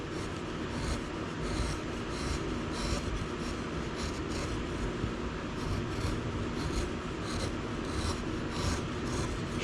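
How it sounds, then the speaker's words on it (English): Steady, continuous rasping and scraping as a chisel carves a wooden wand, close and unbroken, with no talk. "Basically just going over the area again. Chisel down this time."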